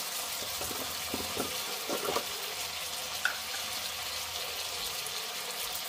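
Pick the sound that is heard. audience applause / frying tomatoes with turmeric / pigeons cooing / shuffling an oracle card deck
frying tomatoes with turmeric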